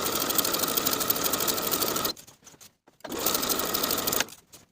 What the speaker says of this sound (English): Then I'll edge stitch close to the upper inner fold all the way around the bottom of the garment